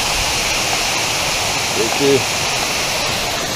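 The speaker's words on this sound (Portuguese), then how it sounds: "Valeu, Cachoeira da Bica. Atravessar aí de volta o riachozinho." Steady, loud rushing water from the stream at Cachoeira da Bica waterfall, a constant broadband roar close by, with a brief spoken voice partway through.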